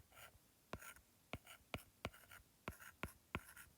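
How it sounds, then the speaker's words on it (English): Pen or pencil strokes scratch across paper while a maths fraction calculation is written out, about nine short, distinct marks in an irregular rhythm, close and quiet, with no voice. "So let's write that out."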